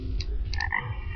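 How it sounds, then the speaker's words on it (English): A frog in the video game Terraria croaks a few short times, close and fairly clear over a steady low background hum of game music, with no talking. "Hello, Mr. Frog."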